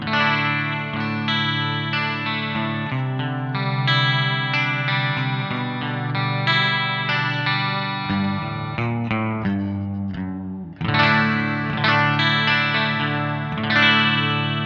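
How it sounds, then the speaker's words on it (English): Sustained electric guitar notes through a Nux Verb Core Deluxe reverb pedal in modverb mode shimmer with a wavering chorus on a long, washy reverb tail, chords ringing out and overlapping. "the modverb puts a chorus on the reverb trail"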